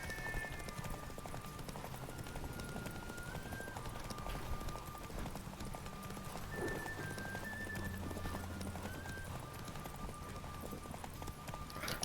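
Roach the horse gallops in The Witcher 3, a continuous rhythmic clip-clop of hooves at moderate volume beneath music and game ambience, with no pause in the stride.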